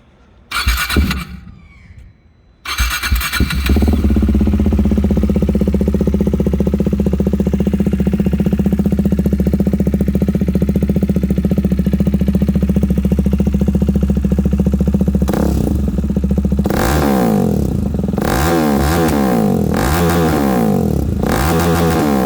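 A Husqvarna Vitpilen 401 motorcycle with its muffler deleted rumbles loudly up close after a brief clatter at start, holding a steady, harsh exhaust drone before several sharp revs rise and fall near the end.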